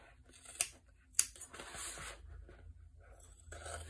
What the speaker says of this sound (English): now I'm just gonna go and trim down the seam allowances down here towards the bottom just a bit.